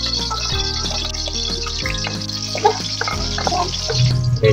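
Garlic fries in cooking oil in a pan, giving a steady close sizzle and crackle with scattered pops, along with low background hum and a few clinks.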